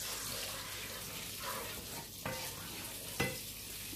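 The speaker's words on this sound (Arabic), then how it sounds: "ما نخليوش زيت الزيتون يتحرق، غادي ننزل فيه هاد البصله الصغيره" A small onion sizzles in hot olive oil, a steady bright hiss with a couple of sharp clicks from stirring or a utensil touching the pan.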